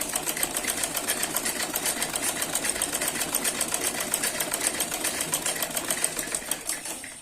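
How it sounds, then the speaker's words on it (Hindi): An industrial sewing machine stitches along the fitting line of a suit, a rapid, steady mechanical chatter that runs continuously and close up with no pauses. "हम इस पे सिलाई लगा लेंगे।"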